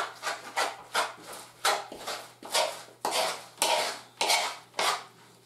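A spoon works tomato paste into a mushroom stuffing, a regular series of close wet scraping strokes against the bowl, roughly two per second, with no talking.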